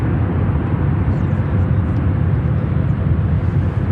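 A Western Global cargo plane at Chicago O'Hare airport gives off a loud, steady jet roar that fills the whole moment without a break.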